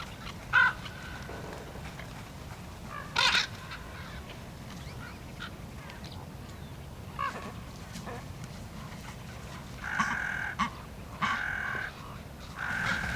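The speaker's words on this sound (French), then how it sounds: "Les grands corbeaux se ruent." Common ravens give harsh, croaking calls as they rush in to feed at a carcass among white-tailed eagles. Short calls come at scattered moments over a steady low outdoor hum, with a longer run of calls near the end.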